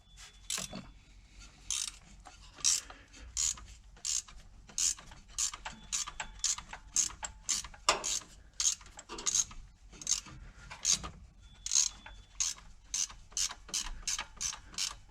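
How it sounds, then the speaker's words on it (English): A ratcheting wrench loosens a bolt on a Mopar car's charging system, giving steady runs of sharp, close metallic clicks in a repeating back-and-forth rhythm, with short pauses between strokes and no talk. "I like using the ratcheting wrenches on this job"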